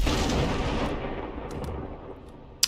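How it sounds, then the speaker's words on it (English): A grenade detonates in Cyberpunk 2077, with a loud, close blast that opens the clip and then decays in a long rumbling tail, followed by a few faint clicks and a sharp tick at the very end. "Now, detonate the grenade."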